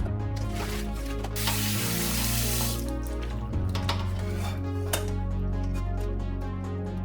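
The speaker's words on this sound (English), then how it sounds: "These have been brined for almost 2 days, so I need to wash them carefully so it will trim down the saltiness." Tap water runs steadily into a sink as chicken pieces, brined for almost two days, are rinsed by hand, with splashing shifts and brief spray bursts and no talking.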